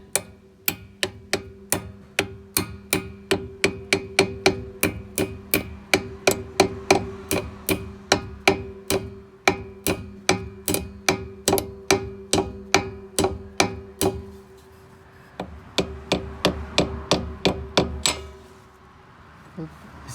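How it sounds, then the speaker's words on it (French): A small hammer taps repeatedly on a car's ABS sensor, giving close, sharp metallic knocks in a steady rhythm. A short pause comes near the end before a final run of taps. "Bon, après, j'ai un tout petit marteau comme ça."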